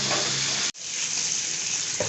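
Chicken for restaurant-style chop suey fries loudly in a pan, a dense hissing sizzle that cuts out for an instant near the start, then resumes just as strongly.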